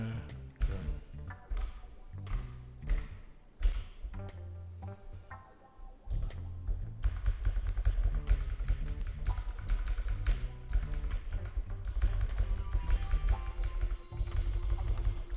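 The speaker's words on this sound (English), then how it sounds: "So here's our Word document. Let's type something." Typing on a Redragon Kumara K552 tenkeyless mechanical keyboard, with rapid uneven key clacks, sparse at first and then dense and continuous, heard close over a strong low background.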